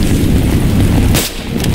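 A gunshot fired during the night mission of the video game Battlefield 3: a loud, deep, rumbling blast that ends in a sharp, bright crack, with a quieter second crack just after.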